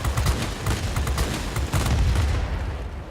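Sustained aircraft machine-gun fire in the World of Warplanes game, a dense rapid rattle of shots running nearly continuously with booming low rumble, easing slightly at the end.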